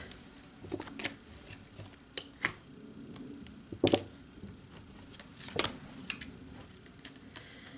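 Energy cards are shuffled by hand at close range in quiet surroundings, a series of soft papery flicks and sharp riffling snaps at irregular intervals, a few louder than the rest.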